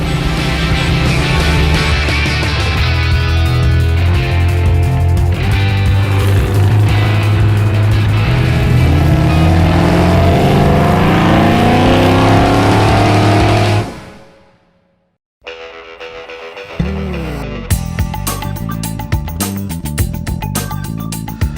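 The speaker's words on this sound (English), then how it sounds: "it's hard not to feel good when you're behind the wheel of a 70 Challenger." A 1970 Dodge Challenger driving, its V8 engine loud and close with rising harmonic sweeps as it accelerates through the gears, then dropping off abruptly into near silence before engine and road noise return.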